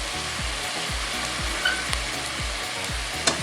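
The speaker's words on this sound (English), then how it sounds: "So I'm just sauteing them, and I'm not going to let them get too soft." Vegetables sautéing with crushed red peppers for chili con carne, a steady sizzle close by, with a rhythmic low thumping running underneath and a few sharp clicks.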